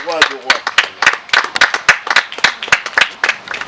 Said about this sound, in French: Est-ce que nous pouvons applaudir, acclamer ce Dieu, acclamer pour ce Dieu, le roi de rois.